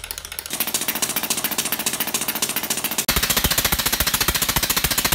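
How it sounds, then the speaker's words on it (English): Valves on a model rocket's RCS thrusters fire in very fast succession, a loud, rapid machine-gun-like clatter of evenly spaced clicks that grows louder and harsher partway through. "Here's a clip of some super fast actuation on all the valves."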